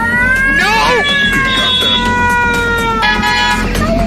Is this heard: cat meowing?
yes